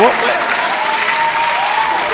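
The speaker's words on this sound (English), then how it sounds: "We'll get another applause." Steady audience applause fills the space at a show held in a drone hangar, dense and continuous clapping at a loud level with no breaks.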